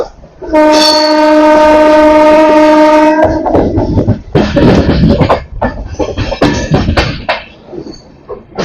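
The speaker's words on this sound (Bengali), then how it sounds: "অমৃত ভারতের WAP5 হর্নটা অনেকটাই আলাদা, একদম প্রিমিয়াম হর্নের মতো একদম ফিল দিচ্ছে" An Amrit Bharat Express WAP5 electric locomotive sounds a loud, sustained, rich multi-tone horn for about three seconds during an overtake on a parallel line, followed by the rumble and clatter of passing rail cars.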